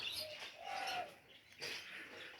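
Pigeons coo softly outdoors as young birds take to the air, with faint wing flaps and chirps mixed in, the calls coming in short bursts at moderate distance.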